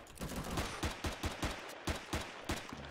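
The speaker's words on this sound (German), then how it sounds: "schieß doch nicht auf mich, schieß auf den anderen." Gunfire in the space survival game Empyrion Galactic Survival, a steady stream of around a dozen muffled shots in rapid, evenly paced succession, fairly faint with no voices.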